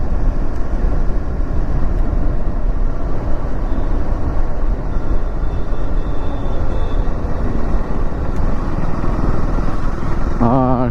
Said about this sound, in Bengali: বাইকটা খুব স্মুথ লাগতেছে, এখন কোনো ভাইব্রেশন নেই।